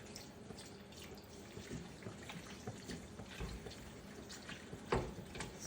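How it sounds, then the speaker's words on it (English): Water runs from a kitchen tap into a pot of shrimp and sausage pasta, a steady faint stream with a brief louder splash near the end and no talking. "just put you a little bit of water down in it"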